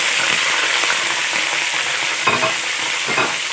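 Chicken liver and gizzards fry loudly in a pot of oil and ghee, giving a dense, steady sizzle that sounds close. Intermittent stirring clatters come through it, and no one speaks.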